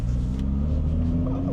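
Porsche 718 GTS 4.0 engine with a muffler-delete exhaust and stock catalytic converter, giving a deep, steady idle rumble that stays loud and close throughout the short burst.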